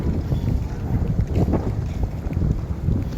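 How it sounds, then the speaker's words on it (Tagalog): Outdoor wind on a cool, overcast December day, buffeting the microphone with a loud, continuous low rumble that rises and falls in gusts. "Mahangin."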